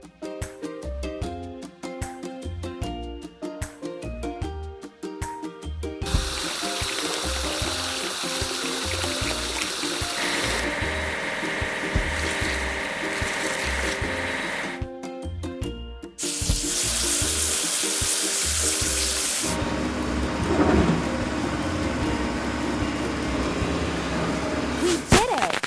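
Water sprays steadily at a truck wash in a kids' truck-building video game, a long hissing rush in two stretches set over bouncy cartoon background music.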